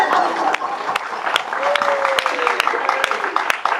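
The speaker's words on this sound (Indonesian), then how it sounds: "Kita beri tepuk tangan." Applause from a crowd at an evangelistic revival service, a steady wash of clapping with a voice or tone sliding faintly underneath, moderately loud throughout.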